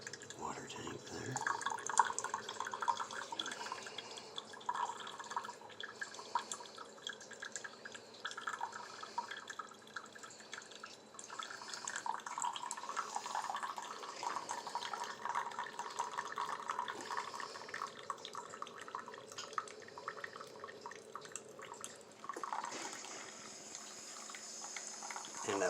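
A SHARDOR single serve coffee maker brews an 8-ounce cup, its hot water dripping and trickling steadily into the cup with faint gurgles, the flow continuous and close throughout.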